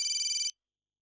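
A phone ringtone for an incoming call, a bright electronic trill pulsing rapidly for about half a second and then cutting off to silence.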